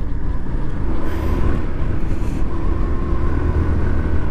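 A Hero Destini 125 scooter being ridden on a test ride, with a continuous low engine and road rumble mixed with wind buffeting on the microphone, steady and loud throughout with no talk.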